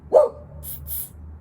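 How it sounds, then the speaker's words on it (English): A pet dog barks once, a single sharp close bark followed by faint breathy noise and quiet background. "Anytime she sees the neighbor's cat, she barks."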